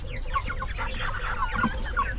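Backyard chickens clucking in a steady series of short, close calls, with a low background hum and no talk.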